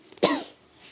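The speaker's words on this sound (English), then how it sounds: "Stop freaking coughing." A single sharp cough bursts out, close and fairly loud, then fades.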